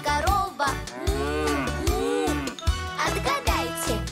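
A cow moo comes through a Russian children's karaoke song in the Masha and the Bear style, over bright sung melody and steady backing music throughout.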